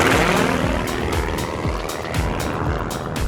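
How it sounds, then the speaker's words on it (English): A Pitts Special experimental aerobatic biplane with a 4-cylinder, 360 cubic inch engine roars loudly and steadily nearby, its propeller adding a rough buzzing drone with pulsing surges. "So the plane is called a Pitts Special. It's an experimental design. It's got a 4-cylinder, 360 cubic inch engine."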